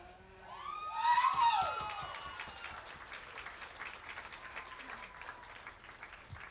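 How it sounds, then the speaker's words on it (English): Applause at a youth sheep market show at a county fair livestock ring, with a dense crowd clapping that swells briefly amid some whistles and cheers, then settles into a steady moderate patter. "Give them another big round of applause."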